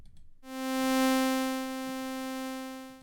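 SmplASketch synthesizer playing a ramp wave: a bright, buzzy sustained tone rich in harmonics, starting abruptly after a short pause and holding steady for a few seconds with no other sounds.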